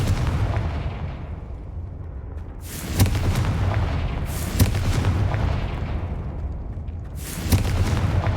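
In Hogwarts Legacy, the Confringo fire spell bursts in repeated heavy booms over a rumbling game background, with three sharp explosive hits spaced a couple of seconds apart, loud and close.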